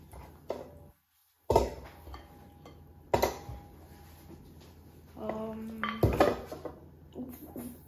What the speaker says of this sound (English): now we're gonna put our pork inside of the bowl that goes in the Instapot